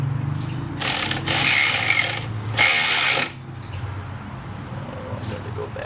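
A power ratchet spinning a bolt on the alternator of a 2005 Subaru Legacy, two loud bursts of high whirring with a brief pause between, over a low hum and quiet background noise.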